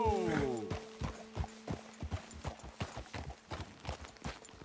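Horses in Red Dead Redemption 2, opening with a clear rising-falling neigh, then a steady run of hoof clip-clops at walking pace, fairly close and moderately loud, with a voice talking over the start.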